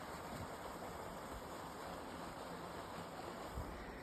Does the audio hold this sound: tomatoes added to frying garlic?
no